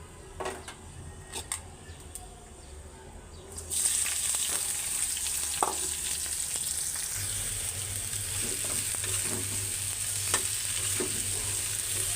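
Leafy greens with dried red chilies sizzle steadily in a hot pan, starting abruptly a few seconds in after quiet stirring, with occasional clinks of a utensil against the pan.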